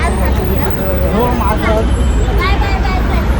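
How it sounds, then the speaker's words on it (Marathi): A Mahalaxmi bus pulls in on a busy highway with heavy traffic, its engine rumble steady and loud under nearby talking and crowd babble. "आता गाडी आलेली आहे हे बघा ही गाडी आहे महालक्ष्मी"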